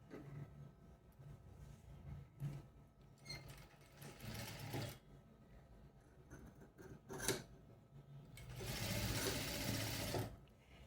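A sewing machine stitches a boat neck A-line kameez in short, quiet bursts of rapid mechanical whirring separated by pauses, close by and with no talking.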